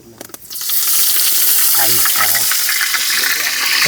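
Garlic hits oil in a very hot pot and sets off an abrupt, loud, close sizzle that holds steady. Faint knocks come first, and voices sound underneath.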